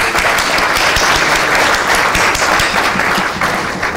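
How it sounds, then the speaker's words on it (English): Sustained applause from an award ceremony audience in Amman, a dense, steady wash of many hands clapping close and loud throughout, with no voices over it. "I'd like a round of applause simply for these people"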